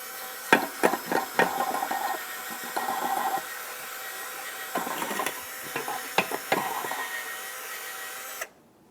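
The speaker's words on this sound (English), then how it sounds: "To clean these, typically all I use is a little bit of parts cleaner and a bore brush." Scrubbing with a bore brush and parts cleaner inside the slider pin bore of a front brake caliper bracket on a 2002-2005 Ford Explorer; close, bursty scraping strokes in uneven clusters with brief clicks and pauses between.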